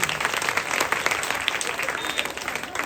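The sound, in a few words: audience applause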